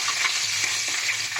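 Koi fish frying in oil in a home kitchen produces a steady, close sizzling hiss, dotted with faint spatters and light clicks of the pan.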